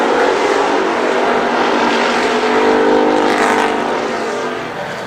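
Race cars roaring around the Columbus Motor Speedway oval during a main event, a loud sustained engine drone that swells as the pack passes close, then fades slightly.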